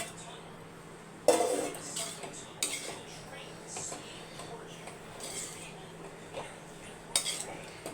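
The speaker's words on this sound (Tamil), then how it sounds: "இப்போ ஆறின சாதத்தை மிக்ஸ் பண்ணிக்கலாம்" Cooled rice being mixed with a spoon in a vessel for mint rice, with sparse metallic clinks and scrapes over a quiet background.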